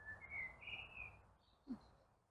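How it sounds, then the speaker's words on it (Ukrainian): Birds sing in a city rose garden in Ukraine, a few clear whistled phrases and chirps heard from a moderate distance over quiet outdoor background. "птахи співають."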